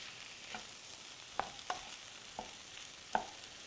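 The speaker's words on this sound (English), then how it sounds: "this fish is going to take so little time that we can go ahead and saute this a bit" Mushrooms sautéing in a pan for a spicy Thai fish soup, a soft low sizzle with a few sharp spatula taps and scrapes, fairly quiet and close.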